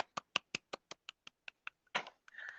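About a dozen sharp, separate claps from a small class thanking its teacher at an English summer program, evenly spaced and fairly faint, ending in a brief burst of noise and a murmur at the close.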